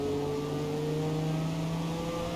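A Honda NSX racing in Forza Motorsport open-class racing, the game engine holding a steady, loud, sustained drone with stable harmonic tones, no breaks or shifts across the clip.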